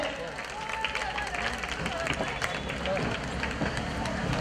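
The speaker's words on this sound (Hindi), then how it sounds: "एक बार हमारे मुख्य अतिथि के लिए जोरदार तालियां हो जाए।" A festive audience gives loud, continuous clapping for the chief guest at a community certificate and award ceremony, a dense steady roar of many hands with crowd murmur mixed in.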